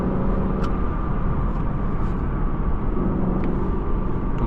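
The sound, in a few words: Lexus LC 500 V8 engine while driving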